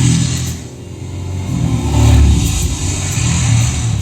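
A Royal Enfield Himalayan motorcycle engine drones loudly and close on the Chennai racetrack, its revs rising and easing steadily.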